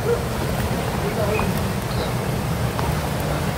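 Water from a waterfall on the Molino River, a steady broadband rush filling the whole clip, fairly loud and constant, with faint voices of bathers underneath.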